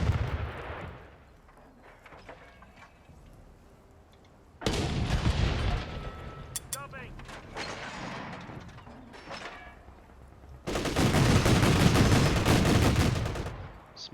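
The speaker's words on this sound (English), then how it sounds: "get the Pack 40 to fire off" Pak 40 anti-tank gun firing in the Company of Heroes 3 game: heavy booming shots and crackling battle bursts, with a loud sustained barrage at the end, no talking.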